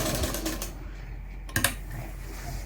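A sewing machine stitches a lined kurta in a short, rapid burst of needle strokes, then falls mostly quiet apart from a couple of sharp clicks near the end.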